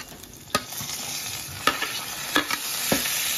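Pointed gourd drops into a pan with already-fried potatoes and sizzles in a continuous hiss, broken by several sharp scraping stirs of a spatula.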